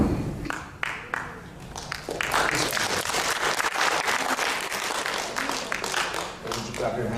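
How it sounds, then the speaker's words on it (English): An audience claps during a product presentation, a burst of applause that starts with a few scattered claps and swells into steady, dense clapping that fades slightly at the end, with voices mixed in. "When you clap your hands, of course,"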